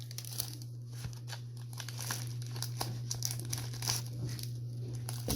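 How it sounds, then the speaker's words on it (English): Packing tape crinkles and rasps in short, close bursts as it is pulled and pressed onto a mailing envelope holding cards, with a steady low hum underneath. "you grab more packing tape"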